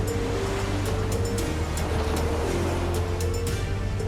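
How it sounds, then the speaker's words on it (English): Ocean waves crash onto a shore in a continuous, roaring wash of surf with no pause, loud and close, with no voices. "Towering waves crashed onto the shore"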